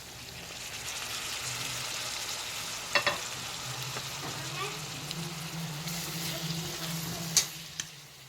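Mince mixed with vegetables fries in butter ghee, giving a continuous close sizzle with a few sharp pops and spatters and the occasional scrape of a utensil against the pan.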